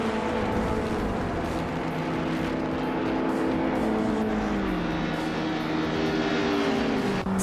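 A 2006 Mitsubishi Eclipse racing in a video game: a loud, continuous engine drone whose pitch sweeps gradually downward and then holds steady, with no break across the stretch.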